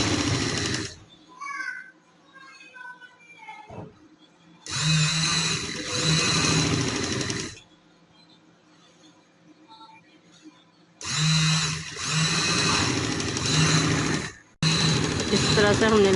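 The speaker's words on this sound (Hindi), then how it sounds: "ऐसे साथ साथ हम लगाएंगे पेपर पट्टी के ऊपर, सिलाई लगाते जाएंगे।" A sewing machine stitches a fabric strip onto paper in three loud, steady bursts of close whirring, separated by quieter pauses where someone talks.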